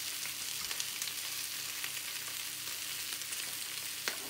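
Onions frying with seasoning cube in a pan for a mutton dish, a soft, even hiss and crackle held steady throughout, fairly quiet and close, with no voices.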